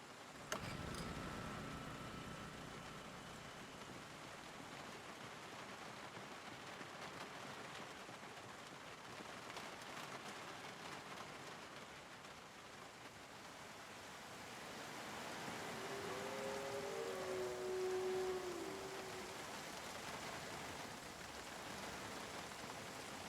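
Rain falling in a video game, a soft, steady hiss of rainfall that swells slightly toward the end, with a faint brief tone near the close.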